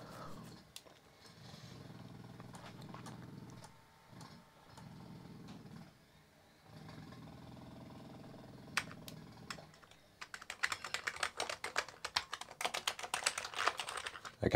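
Typing on a repaired Amiga 500 computer keyboard: a quiet stretch of low hum and a few isolated clicks gives way to a rapid, close burst of crisp key clatter toward the end.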